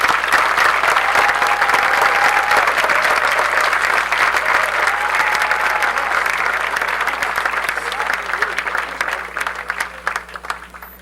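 An audience at the opening ceremony of a book fair applauds loudly and steadily as a band is introduced, a dense wash of clapping with some crowd noise that fades slightly toward the end.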